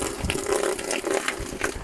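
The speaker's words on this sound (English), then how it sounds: "just gonna give it a little water" Water poured from a can onto a vertical strawberry tower planter, a soft close splashing and trickling stream with small gurgles, steady and fairly quiet with no talking.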